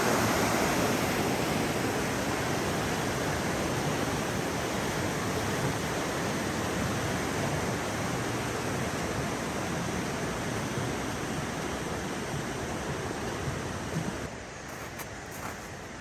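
The McKenzie River rushes below a hiking-trail bridge, a loud steady broadband roar of whitewater that drops slightly in level near the end.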